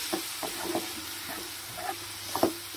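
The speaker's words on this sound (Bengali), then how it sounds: "এবার মিনিট 5 আমি কিন্তু ভালো করে মশলাটা কষিয়ে নেব" Spice masala cooks in ghee with a splash of water, a low, quiet bubbling sizzle with light intermittent stirring taps, near and steady throughout.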